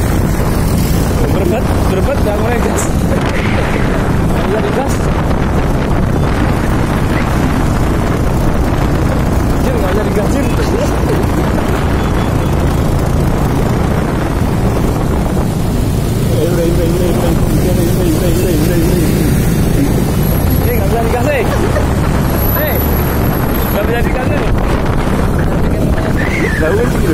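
A motorcycle engine running on special-grade thinner as fuel, throttle revved, gives a loud continuous rumble with rising and falling surges, accompanied by wind noise and people talking nearby.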